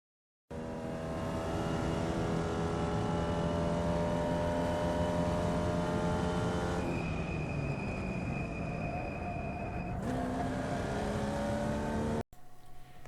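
A race car on the Summit Point circuit braking into turn 1, its loud engine a steady harmonic drone that suddenly shifts pitch as the throttle drops, then jumps again before cutting off near the end.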